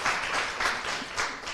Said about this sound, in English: So I want to take a minute to give everybody some applause